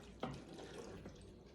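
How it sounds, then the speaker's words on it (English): Beef broth is poured into a pan for a western-style chicken dish, a brief soft splash and trickle of liquid that starts abruptly and fades quickly, heard close and quiet. "I'm just going to pour that right in here"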